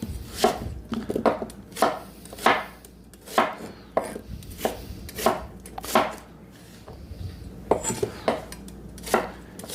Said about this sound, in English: Now that I have my onions sliced